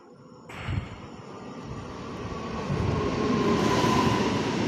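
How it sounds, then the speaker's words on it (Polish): A train passes nearby on a railway line in Zawiercie, Poland, a low rumbling roar of wheels on track that starts abruptly and builds steadily louder, with a dense broadband clatter and no voices. "Właśnie jedzie pociąg, który przywiezie mi materiały do następnego filmu"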